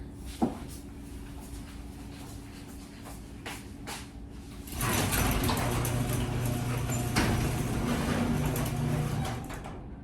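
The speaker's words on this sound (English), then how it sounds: "first thing I wanna do is open the garage up a little bit so that way I have some fresh air" A garage door in a glassblowing shop is opened partway, a low rumbling slide that starts after a few knocks and clicks and carries on steadily, with no talking.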